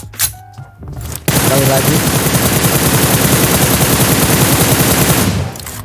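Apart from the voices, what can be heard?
gunfire in video game PUBG Mobile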